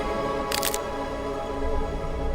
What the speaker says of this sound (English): making a cracking sound as they go.